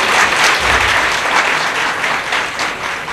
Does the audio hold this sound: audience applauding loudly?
yes